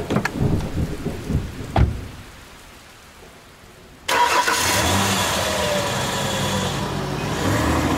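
Steady downpour of rain with rolling thunder fills a stormy scene in a tabletop role-playing game, a few sharp cracks and low rumbles giving way after a brief lull to a loud, constant wash of rain.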